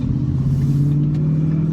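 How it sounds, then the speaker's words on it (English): A deep, steady exhaust rumble from a 435 hp manual Ford Mustang GT drones close by, the engine idling or holding revs with a strong low throb. "this exhaust sounds amazing, especially when you open up at full throttle and it starts crackling a lot"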